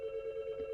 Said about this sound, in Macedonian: Телефонот.